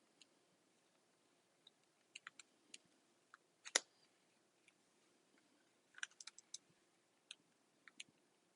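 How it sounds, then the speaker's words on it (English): Sparse, faint button presses on a calculator, scattered single clicks and a few quick clusters tapped in an otherwise quiet room. "Typing that all into my calculator."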